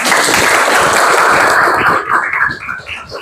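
A short burst of group clapping in an Islamic boarding school classroom, loud at first and then thinning out into scattered claps.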